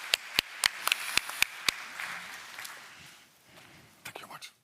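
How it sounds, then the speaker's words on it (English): A conference audience claps for a distinguished panel: a handful of sharp, separate claps in a quiet hall, fading into murmurs, then a few more scattered claps near the end. "please join me in a round of applause to this distinguished panel"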